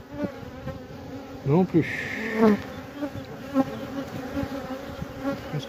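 A queenless honey bee swarm buzzes in a dense, continuous hum, with individual bees droning close past now and then while people talk briefly nearby.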